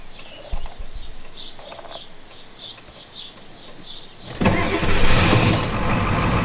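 Birds chirp quietly before a 1993 Ford F-250 with a 7.3L IDI diesel engine cranks and starts, then settles into a loud, steady idle near the listener.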